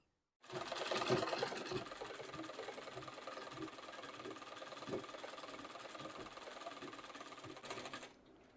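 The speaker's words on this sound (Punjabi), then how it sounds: "ਫਿਰ ਚਾਰ ਸਫਰੇ ਬਾਹ ਦੇ ਸੀਨ ਲਾ ਦੇਣੀ ਪੂਰੀ ਸਿਲਾਈ ਕਰ ਦੇਣੀ" Sewing machine running a continuous stitch along the sleeve seam of a suit, a close, fast mechanical whirr with a rapid rhythmic clatter that starts abruptly, holds steady for several seconds and then stops.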